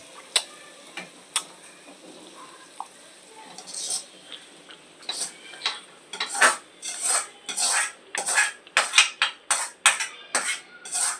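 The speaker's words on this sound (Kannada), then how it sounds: "ಈ ಒಗ್ಗರಣೆನ ಇವಾಗ ಅದಕ್ಕೆ ಮಿಕ್ಸ್ ಮಾಡ್ತೀನಿ ನಾನು" A spoon stirs tempering into bisi bele bath in a cooking pot, giving sparse metallic clinks at first, then a busy run of rhythmic scraping and clattering against the pot.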